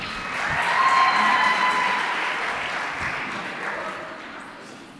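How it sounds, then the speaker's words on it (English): A crowd claps at a student-led school event, the applause swelling quickly to a full, dense burst before gradually tapering off, with a few cheers mixed in. "Round of applause for her, please."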